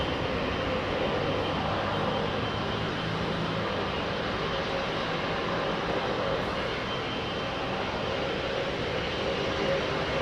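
An Airbus airliner at London Heathrow Airport gives a loud, steady broadband engine roar that holds evenly through the whole stretch, close and continuous with no talk over it.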